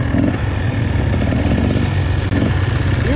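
A 2021 KTM 250 SX dirt bike runs on a trail ride, a loud, close, buzzy two-stroke engine droning steadily with slight throttle wavers and no voices.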